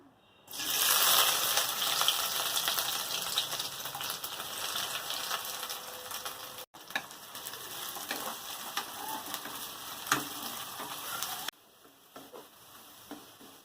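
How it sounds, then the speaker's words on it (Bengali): Thinly sliced onions for birista fry in hot mustard oil with a steady, dense crackling sizzle that holds for about ten seconds, then drops to a softer simmer. No voices are heard. "বেরেস্তা পেঁয়াজগুলো কীরকম সরু সরু করে কেটে নিয়েছি এবার তেলের মধ্যে দিয়ে দেবো"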